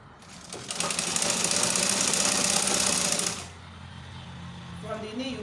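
A sewing machine runs steadily for about three seconds, stitching a fully lined six-piece skirt, then stops abruptly and leaves a quiet room with faint handling noise.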